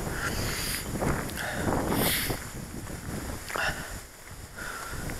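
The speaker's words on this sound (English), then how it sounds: "you probably can't hear anything because it's windy" Wind gusts across a lakeside shore and buffets the microphone, producing a loud, uneven rumble that swells and fades, with brief higher whistles over the roar.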